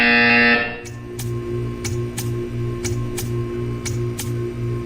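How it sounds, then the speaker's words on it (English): A loud, harsh electronic buzzer from the video game Portal 2 blares for about half a second, then gives way to a steady run of evenly spaced ticks over a low mechanical hum. "You will hear a buzzer"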